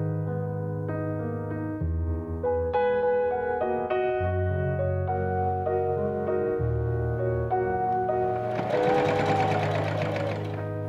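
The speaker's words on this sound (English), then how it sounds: "then pinned the other edge to the lining side and top stitched on the machine" Sewing machine top stitching the waistband of a 1903-style trumpet skirt to its lining, a steady close whirring run of stitches with slight pauses and speed changes throughout.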